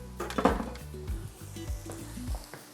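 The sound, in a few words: hash browns frying in a pan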